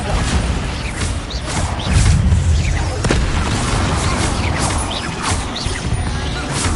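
Repeated blasting booms and crashes from the Bombarda spell in Hogwarts Legacy, dense and loud throughout, layered with whooshes and scattered impacts from spell combat.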